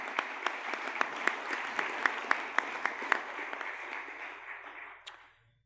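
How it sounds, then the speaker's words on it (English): A large banquet audience applauds Hall of Fame inductees at a university athletics dinner. A dense, steady wash of clapping carries some sharper individual claps and fades out near the end. "a round of applause for those 52 inductees"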